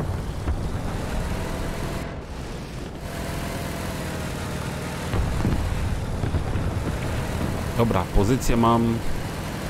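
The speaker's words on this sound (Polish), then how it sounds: "O, jak ten silnik mu tam ryje, ja cię kręcę." A tank engine in the video game War Thunder, heard as a low, steady rumbling roar that swells partway through, under someone speaking Polish.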